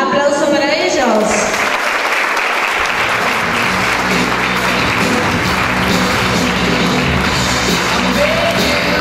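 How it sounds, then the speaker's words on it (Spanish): A school graduation ceremony crowd at an Argentine school in Justo Daract applauds the graduates, sustained loud clapping filling the hall throughout, with a few voices and shouts mixed in. "Aplauso para ellos."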